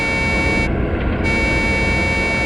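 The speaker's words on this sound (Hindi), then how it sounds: "हॉर्न भी बजा रहा है।" Truck horn sounding in a forest setting, a sustained, buzzy, tonal blare that holds steady throughout, loud and close, with a brief dip in its upper brightness partway through.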